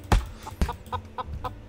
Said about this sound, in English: I just can't take myself serious with the chicken in the background.